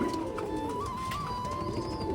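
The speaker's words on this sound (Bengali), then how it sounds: "দেখো জাস্ট কতটা সুন্দর পায়রাগুলো" Pigeons at a pigeon farm, including a pair of Spanish pigeons, give soft, steady low cooing close by over a constant background hum, with no talking.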